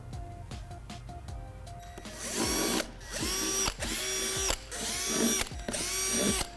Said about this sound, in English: we need to drill out some holes with a 3/8 drill bit